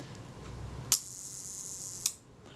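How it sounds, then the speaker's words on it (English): A Kodak Retina Ib camera shutter fires at a one-second speed: a sharp mechanical click opens it, a faint whir holds for about a second, then a second click closes it, close and clear with no talking. "We should get something like 1 second if I fire the shutter."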